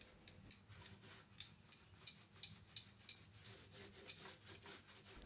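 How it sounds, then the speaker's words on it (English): A 4-inch paint roller is worked back and forth across a wooden desk nook, giving soft, steady rhythmic rubbing strokes, close and fairly quiet, with no voices. "So I took a 4-inch roller and started painting the nook under the top of this desk."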